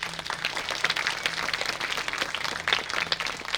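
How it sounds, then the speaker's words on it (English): Applause for a cast member in a college production of Pygmalion, a moderate, fairly distant clatter of hands that carries on steadily throughout. "Give a huge round of applause for our parlour maid"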